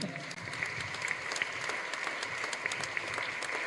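A crowd clapping steadily for several seconds during a Catholic Eucharistic adoration service, a dense continuous patter of many hands at moderate volume.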